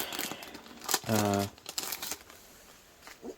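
Clear plastic envelope crinkling in handling, a short burst of crackly rustle near the mic, mixed in with a voice talking.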